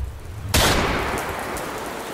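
Heavy rain starts all at once in a cartoon horror tale, a loud, dense hiss that bursts in and then holds steady, slowly easing slightly, with no voices.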